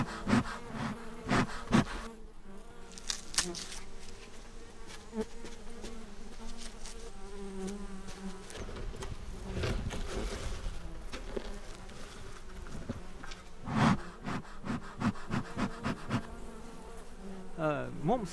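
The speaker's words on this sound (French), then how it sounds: "Nous avons des abeilles depuis 5 ans maintenant." Honeybees from a small kept hive buzz close by in a natural rural setting in Latvia, several insects droning and passing near, the buzz rising and fading as they fly around.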